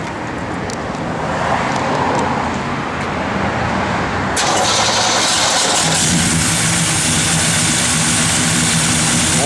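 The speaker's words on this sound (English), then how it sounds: "I have Jay fired up here" A 1966 Pontiac LeMans convertible engine runs loud and close, rumbling steadily and then swelling to a fuller, busier idle partway through.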